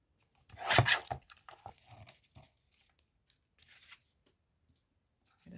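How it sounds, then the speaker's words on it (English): Scissors cutting through card along an angled border for a craft tag, giving a loud crunching snip near the start followed by several quieter, scattered snips and rustles close by. "I don't know what's quicker, either the guillotine is or just doing it with the scissors."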